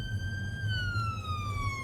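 An ambulance siren wails steadily behind a car during a driving test, its tone sliding slowly downward as it passes, heard over low engine rumble.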